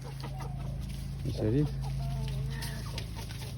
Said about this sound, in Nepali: यस्तो छ अन्डा पार्ने पोथीहरू अन्डा पार्दैरहेको